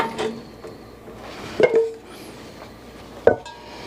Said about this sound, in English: now we'll put our andouille in